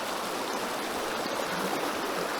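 Steady rushing water of a small cascade in a stream during pouring rain, a continuous bright splashing roar close by with no pauses.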